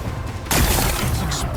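Rocks blasted apart in the video game Horizon Forbidden West: a sudden loud explosive burst cuts in after a quiet moment, followed by a rumbling, crackling tail of debris.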